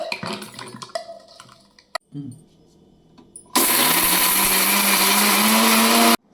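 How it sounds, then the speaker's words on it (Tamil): A mixer grinder purees small-onion Madurai-style kara chutney in a mixie jar, starting after a few faint clicks and handling noises and then roaring loud and steady for several seconds before stopping abruptly. "ஒரு மிக்சி ஜாரில் மாற்றி தொக்கு பதத்தில் அரைச்சி எடுத்துக்கோங்க"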